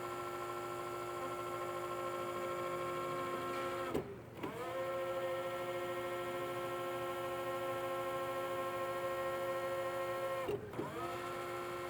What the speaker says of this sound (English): As you know, the rotator rotates 360 degrees.